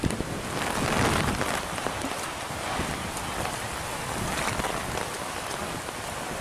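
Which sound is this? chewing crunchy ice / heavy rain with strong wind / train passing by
heavy rain with strong wind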